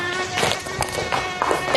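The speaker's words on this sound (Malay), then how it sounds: "Ada nyamuk. Besar ni nyamuk." A large mosquito whines in a thin, continuous buzz that swells and fades as it drifts close, with a classroom setting around it and no speech over it.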